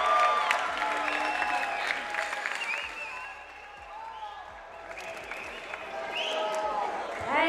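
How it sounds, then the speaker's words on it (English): An arena crowd at a professional boxing event applauds and cheers after a bout, a sustained wash of clapping that dips slightly and swells again, with a ring announcer's voice faintly heard over it. "a big round of applause for Juanito Estrada and Ezequiel Flores."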